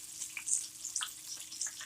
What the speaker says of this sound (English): there's my chicken just sizzling away